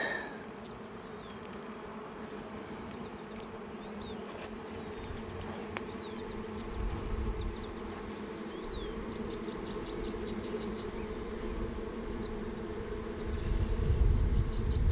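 Honey bees buzz steadily around an opened hive during a walk-away split, a dense, continuous drone at moderate level with a few faint bird chirps above it.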